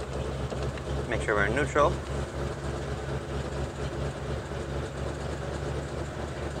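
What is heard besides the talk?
1948 Ford Super Deluxe flathead V8 engine starting and idling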